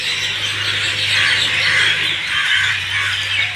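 A loud, unbroken din of crows and other birds screeching and chirping at an evening roost in a stand of bamboo, filling the air without pause.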